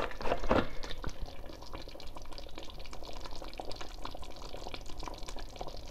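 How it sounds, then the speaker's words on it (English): A little cooking oil goes into a small pot, with a brief splashing pour at the start followed by soft, steady bubbling and liquid noise at low volume. "I'm gonna put in a little bit of oil to fry some onions."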